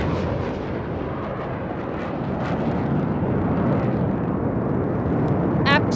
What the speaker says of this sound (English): a single Rafale aircraft flying at a speed of 900 kilometers per hour, carrying out a vertical Charlie